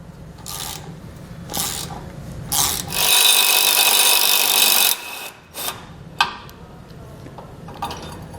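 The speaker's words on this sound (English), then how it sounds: "Using your 15mm socket, take out the two bolts below." A socket wrench with a 15mm socket takes out the tow hook bolts on a 2012 Ford F-150, giving short bursts of rasping ratchet clicks close up and one longer, louder run of turning. No one speaks.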